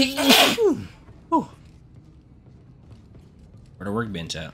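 A single sharp sneeze bursts out loud and close at the start, followed by a short voiced sound, then someone speaks briefly near the end.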